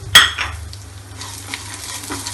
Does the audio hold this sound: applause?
no